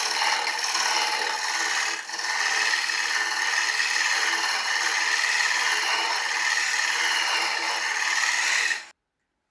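A 3/8 bowl gouge cuts a wooden bowl on the lathe, truing up a flat edge with the bevel, making a steady, loud scraping hiss that carries for about nine seconds with only a brief dip near the start before it stops abruptly.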